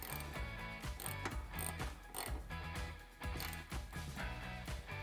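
Ratchet with an 18mm socket tightening a factory bolt while fitting a steering stabilizer on a Jeep JL or Gladiator, a steady run of fast mechanical clicks going on throughout, close by with no talk.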